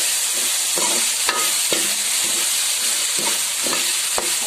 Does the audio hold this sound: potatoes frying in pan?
yes